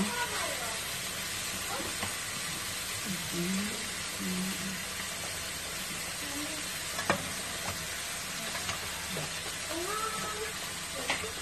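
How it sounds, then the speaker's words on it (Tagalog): Tenderized beef sautés in a hot pan for pochero with a constant loud sizzle, broken by occasional spatula scrapes and stirring knocks. "Igisa niyo siyang mabuti para lumabas pa din yung lasa ng beef."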